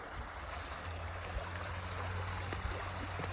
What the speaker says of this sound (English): So you see there's a heavy creek crossing right here.